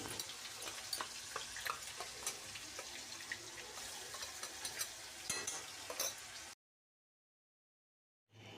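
Onion paste with cumin frying in oil, stirred steadily with a spoon against the pan over a continuous sizzle, fairly faint, with scraping clicks throughout before the sound cuts off to silence near the end.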